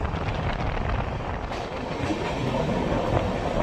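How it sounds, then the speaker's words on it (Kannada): From aboard the Humsafar Express (19668) passing through Shindawane railway station, a steady rumbling roar of the moving train with faint rhythmic rail clatter and wind noise, continuous and fairly loud. "ಇವಾಗ ನಾವು ಶಿಂದವಾಣೆ ಅಂತ ರೈಲ್ವೆ ಸ್ಟೇಷನ್ ಸ್ಕಿಪ್ ಮಾಡ್ತಿದ್ದೀವಿ ನೋಡಿ"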